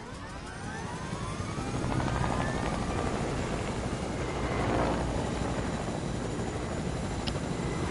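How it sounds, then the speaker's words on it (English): Helicopter in an online shooter video game, a steady rotor whir and engine drone that swells and passes, fairly distant and moderately loud, with no voices. "Get to the chopper!"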